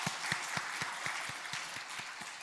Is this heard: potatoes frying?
no